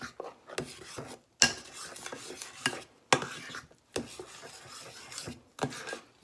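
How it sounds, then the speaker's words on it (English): Waffle mixture stirred with a cinnamon stick in a bowl, rhythmic scraping and rubbing strokes broken by brief pauses, close and fairly loud with no talking. "I'm just gonna literally stir my mixture with the cinnamon stick in it"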